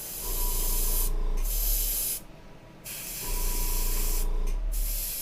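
An airbrush sprays paint onto a masked Polar Lights 1/350 Enterprise Refit model kit: a steady, close hiss in three long bursts separated by short silent gaps.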